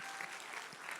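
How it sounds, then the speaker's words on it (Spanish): A church congregation claps for the Lord during a Tuesday service, a brief, distant, fairly faint patter of applause. "Denle un aplauso fuerte al Señor."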